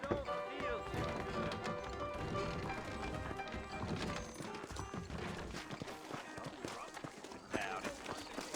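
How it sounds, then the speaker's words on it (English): Horse hooves clip-clop in the Red Dead Redemption video game, steady rhythmic hoofbeats mixed into a dense, loud game soundscape with music and a voice speaking throughout. "I got the horses saddled up and ready out front."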